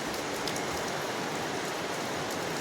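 Steady rain falls outdoors at a coconut grove in Kerala, a dense even patter on surfaces that continues without a break and with no voices.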